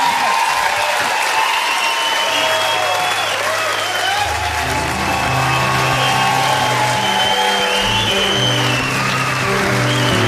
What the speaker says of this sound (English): Another round of applause because that was just...